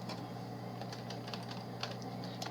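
Rapid tapping on a computer keyboard while entering HTML code, a steady run of soft, close clicks over a constant low electrical hum.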